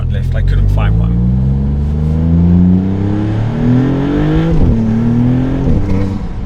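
A Maserati MC20 sports car accelerates hard through the gears, its engine note climbing in rising sweeps with a quick shift near the middle, loud and close throughout.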